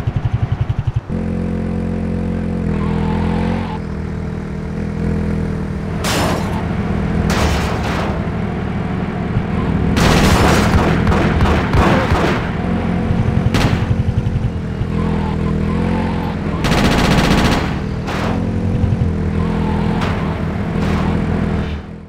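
Game audio from GTA Chinatown Wars during a mission: steady engine and driving noise runs throughout, broken by repeated bursts of loud gunfire and clattering impacts.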